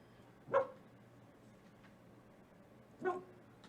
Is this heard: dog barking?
yes